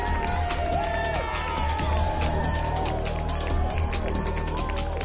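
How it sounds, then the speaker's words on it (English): Spectators line the streets of Galway at the Ironman 70.3 Ireland race, keeping up a steady roar of crowd noise with scattered clapping and cheers under a commentator's voice throughout. "Big applause for Keith Duffy, a Boyzone member"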